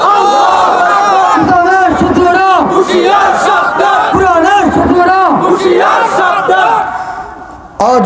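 A large crowd at an Islamic religious gathering (mahfil) chants the takbir, Allahu Akbar, in loud rhythmic unison shouts repeated several times, fading near the end before a final burst.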